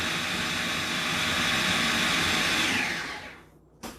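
A steady, loud motorized whir of a food processor grinding soap runs continuously, then cuts off and winds down, followed by a single knock.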